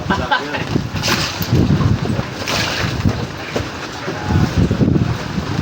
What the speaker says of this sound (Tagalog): Malakas na naman hangin.